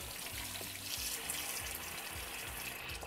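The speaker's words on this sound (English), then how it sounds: "Put water in." Water runs steadily over clams sitting in salted water in a strainer, a soft continuous splashing and trickle like a tap filling, close and moderately quiet with no talk.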